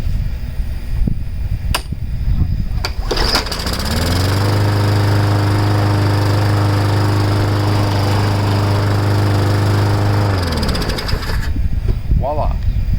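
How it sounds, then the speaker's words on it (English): A Craftsman M100 push lawn mower, left sitting overgrown with vines and fixed with its air filter box off, starts and runs with a loud, steady engine drone for several seconds before shutting down, with some handling noise around it. "It's a lawnmower."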